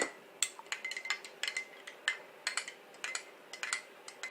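A spoon clinks repeatedly against a bowl while thick, syrupy balsamic vinegar dressing is stirred, producing quick, light taps in an irregular rhythm, close and fairly quiet.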